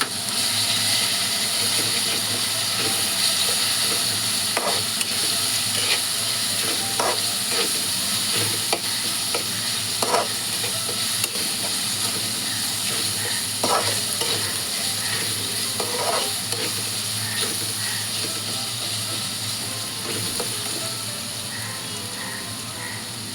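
Onion frying in a pan with coriander powder and homemade green masala paste for a chicken liver masala, a steady sizzle with intermittent scraping stir strokes over a long stretch, no voices.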